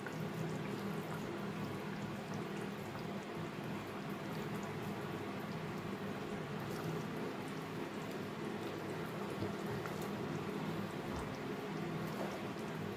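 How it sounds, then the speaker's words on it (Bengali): Juices left over from frying koi fish go into a simmering curry with kochu and potatoes. A soft, continuous bubbling hiss runs quietly and evenly throughout. "যে জুসটা ছিল, সেটাও কিন্তু আমি এর মধ্যে অ্যাড করে দিলাম"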